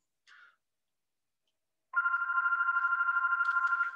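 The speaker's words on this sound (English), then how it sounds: "I apologize for the phone ringing." A telephone ringing during a lecture on the Big Bang, a short chirp followed after a pause by a continuous trilling electronic ring lasting about two seconds, alone without talk.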